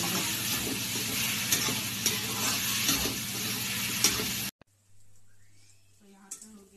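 Onions with a little salt frying hard in a pan and being stirred until browned: a steady, loud sizzle with scraping stirs for about four and a half seconds, then it cuts off to near silence with faint kitchen sounds.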